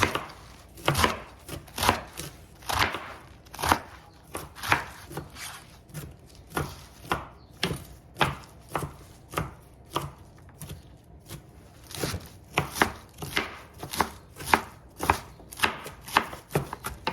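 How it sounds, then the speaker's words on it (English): A knife chops rhythmically through soft leafy vegetables on a board for dumpling filling, a steady run of close, firm thuds repeated for many seconds with no talk. "I'm going to go ahead and take some of this and just start chopping chopping."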